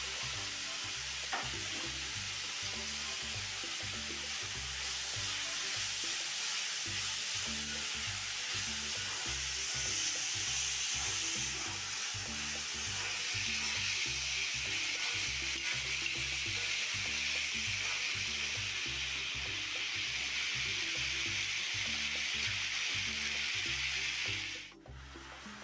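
Tomato frying in a pan with salt, turmeric and chili powder makes a steady, close sizzle, with rhythmic stirring scrapes throughout and a clunk near the end; no talk.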